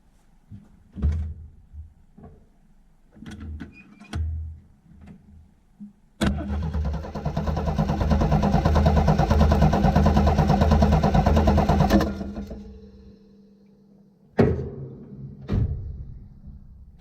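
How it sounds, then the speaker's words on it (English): A vintage vehicle engine cranks over with the throttle held wide open during a compression test, a loud steady starter churn lasting about six seconds, framed by clicks, thunks and handling noises before and after. "So I'm going to open the throttle wide open and we'll crank it over and see what we get."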